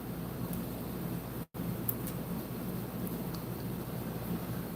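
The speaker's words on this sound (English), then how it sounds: "We just started to get the rain." Steady rain with a low thunder rumble, a dense even hiss that fills the whole stretch, with a brief dropout partway through.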